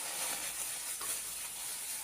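A steady soft swishing and hiss of a spoon stirring a homemade laundry soap mixture, continuous and close with even loudness and no voices over it.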